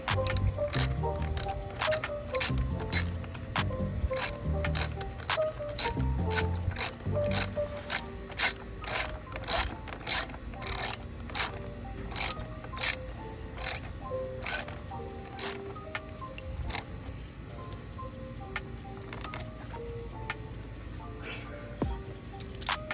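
A ratchet clicks steadily while snugging down the battery hold-down hardware on a 2018-2022 Honda Accord. The pawl chatters fast in close, repeated strokes, loud at first and then settling into a slower, even rhythm, with no one speaking.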